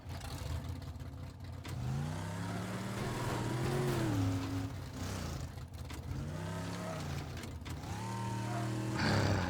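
A car engine in the Teardown video game revs and accelerates continuously, its pitch climbing and falling in several sweeping rises, loud and close throughout with a brief dip between surges.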